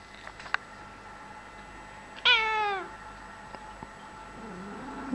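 A house cat gives one loud, drawn-out meow up close in a quiet indoor room, with faint light taps and rustles before and after.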